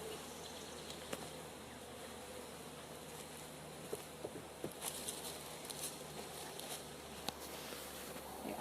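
Honeybees buzzing in an open hive brood box, a continuous soft hum with small scattered clicks and taps over it, fairly faint and steady.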